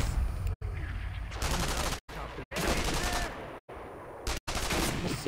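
An enemy turret fires in the video game Sniper Elite V2, sustained rapid machine-gun bursts that are loud and close, broken by several abrupt silent gaps.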